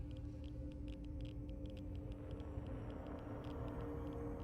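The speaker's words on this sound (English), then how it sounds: "we can find a generator, still whirring away to keep the place lit." Steady low whirring hum of a generator in a large underground shelter chamber in Fallout 4, a constant droning tone with faint ticking overtones, unbroken and moderately loud throughout.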